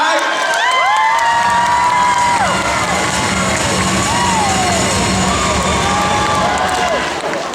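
A large concert audience at the Sun Yat-sen Memorial Hall cheers loudly to welcome a singer to a charity show: a sustained roar of voices with rising whoops, whistles and shouts over faint clapping, continuous for several seconds before easing.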